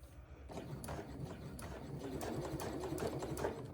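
A sewing machine hums and whirs steadily at close range as it stitches fabric around a curve, its rapid needle rhythm continuous and even throughout.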